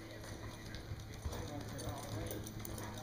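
A champion American Paint Horse mare loping in an arena, her hoofbeats a soft rhythmic clip-clop under constant background hum and a rider's voice giving commands.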